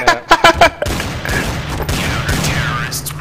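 Several sharp gunshots in quick succession from the video game Counter-Strike: Source, loud and close, followed by a dense rumble of continued firing with faint voices in the mix.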